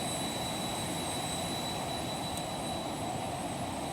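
A jet aircraft engine in the X-Plane flight simulator game roars as a steady, loud broadband rush with a thin high whine on top, constant throughout with no voices.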